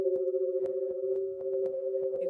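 The painting The Scream, converted into microtonal sound, comes out as a steady pair of closely tuned electronic tones that beat against each other, dotted with soft, irregular clicks, heard alone and without talk.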